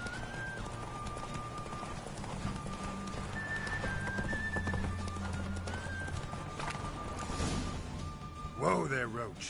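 Roach, a horse in the video game The Witcher 3, gallops with steady rapid hoofbeats and whinnies near the end, under a voice and background music.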